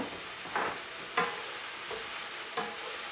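Chopped onions sizzling in a pan of olive oil, a steady frying hiss under three or four louder scraping stirs spaced about half a second to a second apart, close and fairly quiet.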